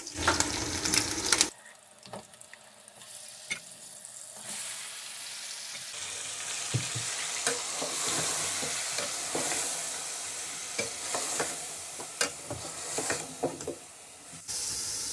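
Marinated chicken fries with potatoes in a pot for degi chicken biryani. A brief loud burst opens a continuous sizzle, with repeated scraping and stirring clatter over the hiss throughout.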